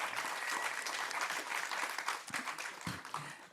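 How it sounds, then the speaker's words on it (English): A meeting audience applauds steadily and fairly loudly for several seconds, a dense wash of clapping that thins toward the end. "And please applaud Federico Sarfo"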